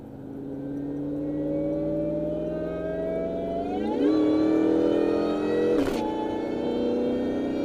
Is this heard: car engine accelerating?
yes